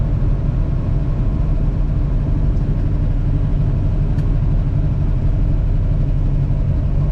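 1969 Chevrolet Camaro Z28 driving on a dry winter road in Minnesota, a steady deep engine rumble and drone with road noise, constant and loud, no voices.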